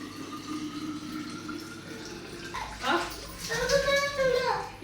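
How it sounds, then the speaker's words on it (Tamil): Water runs and splashes into a water can nearby while people talk over it, the pouring growing louder toward the end. "வாட்டர் கண்ணெலாம் கழுவிட்டு தண்ணியெல்லாம் பிடிச்சி வச்சுக்கலாம்"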